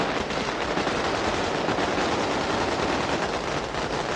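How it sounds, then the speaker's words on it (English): Sustained gunfire shot into the air during a convoy's half-hour move into a port area, a dense, continuous crackle of overlapping shots that stays loud and steady throughout, with no clear gaps. "To the noise of shooting in the air, the convoy moved for a half hour into the port area"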